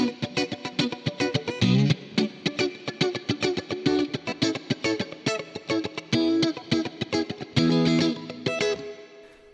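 Yamaha Pacifica electric guitar with Seymour Duncan pickups, played through effects with distortion and chorus, strumming chords and picking notes in a busy, continuous run that stays loud throughout.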